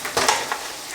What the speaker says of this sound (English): It's kind of jumping it around in the pan like that when you're cooking.